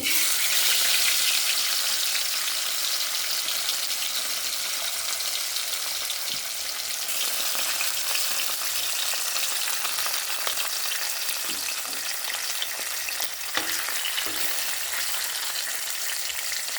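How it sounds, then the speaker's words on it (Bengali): Bata fish (labeo) frying in hot oil in a pan, a loud, dense, continuous sizzle with scattered spitting crackles, close and steady with no talking. "তো তেলের মধ্যে এখন আমি মাছটা ভেজে নেব।"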